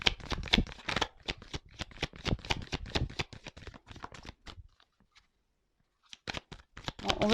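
Oracle cards being shuffled and drawn by hand, a rapid run of crisp flicking riffles for about five seconds, a short pause of silence, then another burst of card shuffling; no talking.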